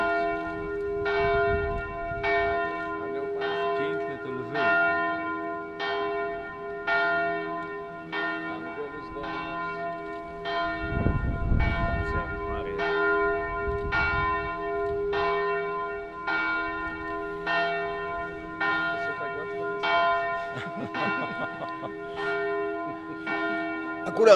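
Church bells toll repeatedly in a slow, even rhythm of around twenty strikes, each ringing out with sustained overtones, with a brief burst of crowd noise partway through.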